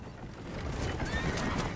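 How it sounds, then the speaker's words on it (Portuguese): In the video game Red Dead Redemption, a horse whinnies clearly over the steady clip-clop of galloping hooves, the gallop rising slightly in loudness midway, heard alone without talk. "Agora corre, cavalinho, corre."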